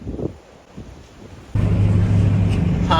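Strong wind batters the microphone on a farm, soft at first and then a sudden loud, sustained rumbling gust for the rest of the clip.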